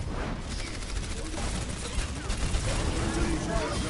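Rapid turret gunfire during an Overwatch match, a dense chatter of repeated shots rising and clustering over a noisy background of game effects.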